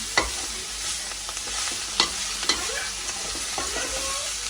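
Greens sautéing and being stirred in a pan, a steady sizzle under scattered scraping stirs and a few sharper knocks against the pan, close up with no talking.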